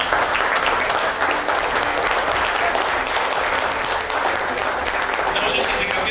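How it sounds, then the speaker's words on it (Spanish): Continuous audience applause at an awards night, a dense, even wash of clapping from many hands that stays steady throughout. "Les pido un aplauso también para él"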